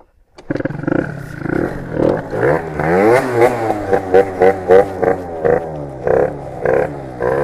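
Scooter engine revved for a wheelie, a loud, close rising and falling buzz with pitch sweeping up and down, ending in a series of short throttle blips.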